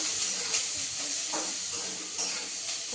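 Leftover rice being tempered (phodni) and stir-fried in a hot pan gives a steady, close sizzling hiss with a few brief louder crackles. No one speaks.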